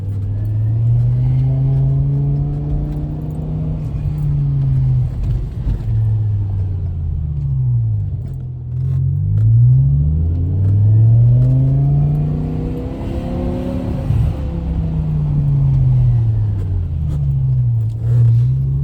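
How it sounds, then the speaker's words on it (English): A BMW M5 E60 V10 engine with an axle-back exhaust repeatedly revs up and eases off in first gear, its exhaust rising into a high scream, then falling back, loud and close. "I'll let you hear the engine a little in first gear"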